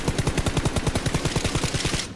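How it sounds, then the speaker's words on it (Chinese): Rapid M16 rifle burst in the mobile shooter Game for Peace, a steady stream of sharp, evenly spaced shots filling about two seconds at close, loud range with no pause. "这个时候不管能不能打中他，我们给他一梭子"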